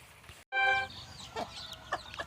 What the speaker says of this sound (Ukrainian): Сьогодні вперше випустила курчаток, а вони цвіркунять.